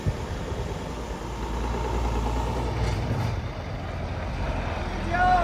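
A large Scania truck on a farm pulls away with a steady low diesel rumble that builds slightly, heard at moderate distance with faint voices and outdoor noise around it.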